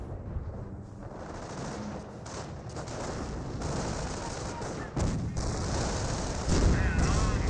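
Continuous automatic gunfire and explosions in a Company of Heroes multiplayer battle, dense and loud throughout with a sharper burst near the end, no speech over it.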